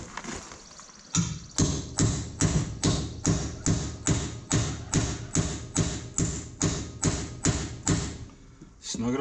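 Blunt nose chisel tapped against a jam screw on a Pettibone loader transmission, about twenty sharp, evenly spaced metallic knocks in a steady rhythm, close and fairly loud.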